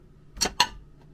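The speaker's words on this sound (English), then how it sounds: "I have all of my skillets, my pots and pans up here." Metal skillets, pots and pans clank in a drawer inside a Little Guy Max camper trailer: two sharp, close metallic knocks in quick succession, then a faint third tap.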